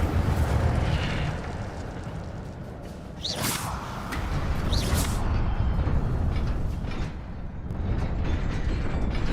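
A fire spell cast in the Hogwarts Legacy video game gives a loud, sustained roaring whoosh of flame with two sharper bursts flaring midway, over a dense rumbling game soundscape, with no talking.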